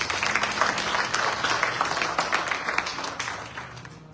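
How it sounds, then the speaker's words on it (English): A crowd at an evening youth yajna in a Hindu temple hall applauds the Dharmacharya, a steady wash of many hands clapping at moderate distance for about four seconds, easing slightly toward the end. "please give our Dharmacharya a big round of applause"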